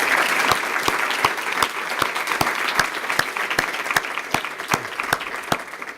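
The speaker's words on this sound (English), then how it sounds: "Let's give them a round of applause right now." Sustained applause from an audience, dense steady clapping throughout with a few sharper claps standing out near the front.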